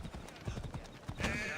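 A horse's hooves clip-clop at a brisk gallop in Assassin's Creed Odyssey, rhythmic soft thuds under a faint game soundscape, with a short whinny near the end and a voice speaking over it.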